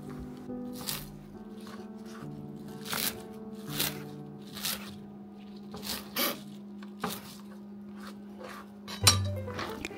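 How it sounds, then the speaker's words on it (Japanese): A knife chops through mizuna greens on a board in quick, irregular crisp strokes, with a low steady hum in the background. "これをさっと食べやすいサイズにザクザクと切っていってお皿に盛り付けていきます。"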